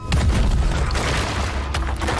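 A loud, heavy blast booms and rolls into a sustained deep rumble with crackling bursts.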